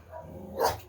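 A dog barks once at a distance in a home setting, a single short bark rising briefly above quiet room noise.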